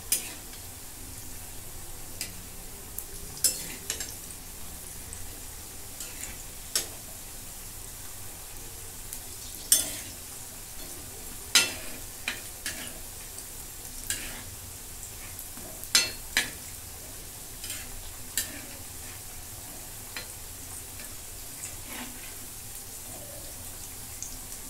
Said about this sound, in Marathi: मध्यम गॅसवरती एक बाजू पूर्णपणे तळून घेते.